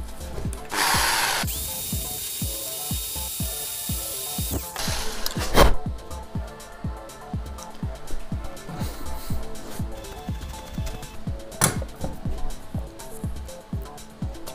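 Power drill running in turbo mode, enlarging a hole while fitting BI-LED lenses to a 2016 Renault Trafic headlight: a steady close whirring with a loud high-speed burst early on, then continued grinding with short sharp spikes.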